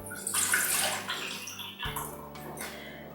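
Soaking water from lentils being poured off and drained, a steady splashing pour of water running for several seconds at close range, with no talk over it.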